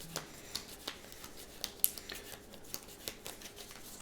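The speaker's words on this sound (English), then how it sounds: "Let's do a top under shuffle." Playing cards handled one at a time in a top-under shuffle while playing Clank! Catacombs solo, producing soft, evenly spaced card flicks and taps, close and quiet, with no talking.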